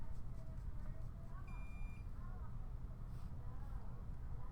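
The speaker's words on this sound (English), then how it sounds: "Something just beeped at me and I have no idea what it was." A single short, high electronic beep sounds once amid quiet background noise with faint murmuring.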